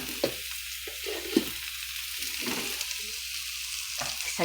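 Fried rice with minced fish being sautéed and stirred in a pan, a steady sizzle broken by several sharp scrapes and clacks of the spatula at an irregular rhythm, close and moderately loud, with no talking.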